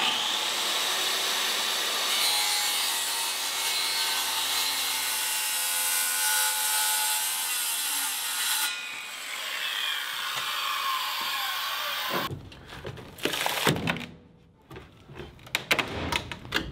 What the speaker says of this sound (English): I'm also going to cut out the plywood that I installed on the front floor up here